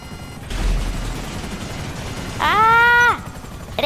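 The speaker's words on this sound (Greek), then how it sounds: "Πόσο ανθεκτικό είναι το ελικόπτερό μου" A video-game helicopter drones steadily with broadband rotor wash, joined midway by a sharp tonal alarm-like blare that holds for under a second before cutting off.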